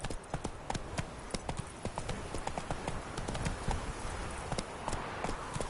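Galloping horse hooves in The Witcher 3 video game beat in a rapid, even rhythm, close and steady throughout.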